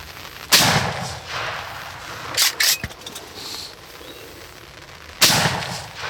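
Gunshot fired at a wild turkey during a hunt, a sharp outdoor blast with a short echo tail, followed by quieter shuffling and clicks and then a second loud report near the end.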